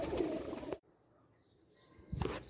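Flying pigeons on a haveli rooftop in Jhelum, a brief burst of cooing and wing noise at the start, then a quiet gap before a second soft flurry near the end.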